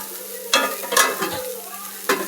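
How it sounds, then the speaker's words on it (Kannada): Green chili, ginger, cumin and pepper fry in a pan for an avarekalu (field bean) sambar, giving a steady close sizzle broken by a few sharp scraping stirs, with no talking. "ಇಷ್ಟು ಫ್ರೈ ಆಗಲಿ."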